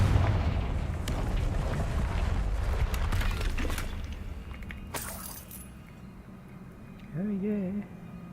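The Confringo fire spell explodes in Hogwarts Legacy, a heavy rumbling boom followed by a sharp burst, then fading debris as a voice speaks briefly.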